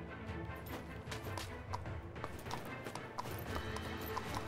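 Horse hooves clip-clop at a gallop with repeated neighs and whinnies in the video game Hellsplit: Arena, a steady busy mix of hoofbeats and game ambience without speech.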